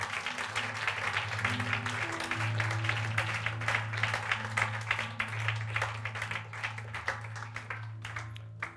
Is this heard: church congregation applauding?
yes